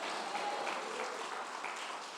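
A church congregation claps for God during a service, a continuous wash of many hands clapping at a moderate distance, steady and even throughout.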